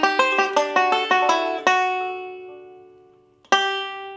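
Banjo picking a lick in G, a quick run of bright plucked notes that rings out and fades. A single strong note is struck again near the end, played solo with no talk.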